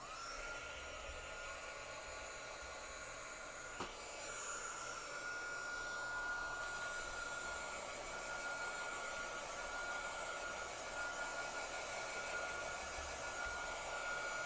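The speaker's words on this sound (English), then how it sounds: "Let's hit it with our heat gun actually a little bit." A heat gun blows steadily on freshly applied ink, producing a loud, continuous whooshing roar that holds for the whole stretch, with one brief click partway through.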